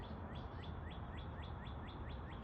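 A bird calling from the top of a pine tree, a steady series of about ten rhythmic rising chirps repeated evenly, faint and distant over a constant broadband background hiss.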